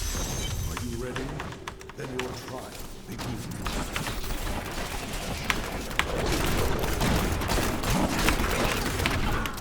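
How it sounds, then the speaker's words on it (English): Demon Hunter turrets in Diablo 3 fire rapidly amid dense combat noise, a continuous crackle of sharp hits and thuds that grows busier and louder in the second half. "I just love how far the turrets shoot"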